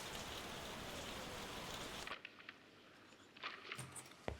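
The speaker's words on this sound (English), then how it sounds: "Suddenly raining." Rain in the video game Lost Judgment: a dense hiss of steady rainfall that cuts off abruptly, leaving scattered light patter and faint clicks.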